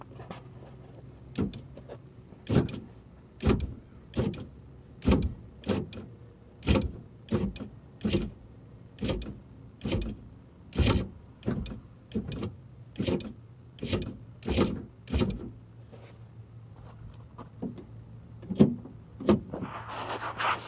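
Power door locks on a 1999 Ford Explorer, a long run of about twenty sharp mechanical clunks at a brisk, even rhythm over a low steady hum, close to the microphone, with no talking.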